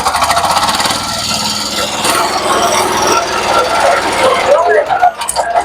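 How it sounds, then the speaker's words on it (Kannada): A diesel-powered mini tractor used for row cultivation runs close by with a steady rattling, knocking drone that holds throughout, then briefly drops away near the end. "ಇದು ಡೀಸೆಲ್ ಇಂಜಿನ್ ಮುಖಾಂತರ ವರ್ಕ್ ಆಗೋದು"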